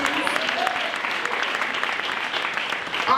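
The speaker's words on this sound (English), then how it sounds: "Can we give them a round of applause, please?" Audience applause for the organizers at the 40th annual Jump-Start performance party in San Antonio, a steady wash of many hands clapping at a fairly even level throughout, with faint voices mixed in.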